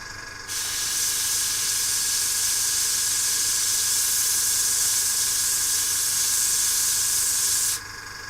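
An airbrush sprays paint onto a miniature in one continuous, close, even hiss lasting several seconds, starting and stopping cleanly with no talk over it.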